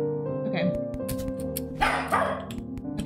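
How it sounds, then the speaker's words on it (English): A pet dog barks in a few sharp yips off to the side, mixed under a person's talk and the tonal music and effects of a platformer game. "Y'all hear Rory barking?"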